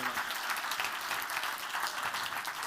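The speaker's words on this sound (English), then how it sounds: "Give them both a big round of applause." Steady, dense applause from an audience at a pickpocketing stage show, loud and continuous throughout with no pauses.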